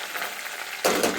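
Curry leaves, coriander, dried red chilies and garlic go into hot oil for a dal tempering. A sudden loud sizzle bursts in after a quiet stretch and keeps crackling steadily. No voices.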